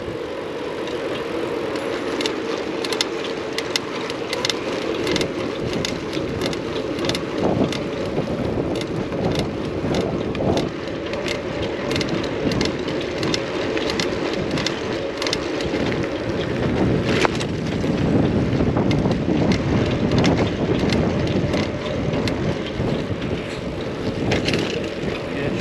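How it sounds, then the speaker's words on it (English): Steady wind roar and buffeting across the microphone while moving outdoors, a continuous broadband rush with gusty swells and occasional knocks, no speech. "I always look for flags to see the direction of the wind."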